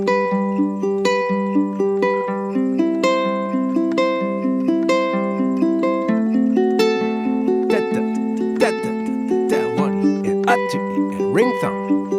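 Ukulele finger picking, a steady rolling pattern of plucked notes with the thumb and ring finger accented over softer notes, clear and close, later turning into brighter, busier plucking.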